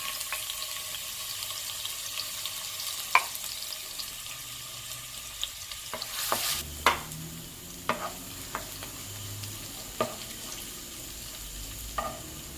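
A few cloves of finely chopped garlic and a small piece of minced ginger fry in hot coconut oil, giving a quiet, low sizzle with scattered clicks and sharp pops, plus an occasional louder clatter near the middle.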